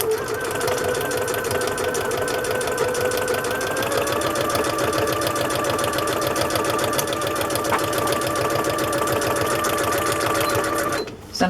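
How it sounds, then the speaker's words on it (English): A sewing machine runs a steady, continuous stitching pass along the edge of a strip of lace, loud and close, stopping abruptly near the end. "I'm going to sew again on the other edge of the lace to hold that down"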